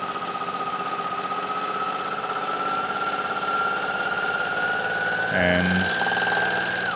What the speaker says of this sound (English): and now we can start sewing.